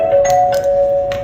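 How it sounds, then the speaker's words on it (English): A smart doorbell rings, a short sustained electronic chime lasting about a second with faint clicks over it. "they ring the doorbell"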